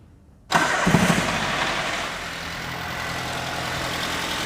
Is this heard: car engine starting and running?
yes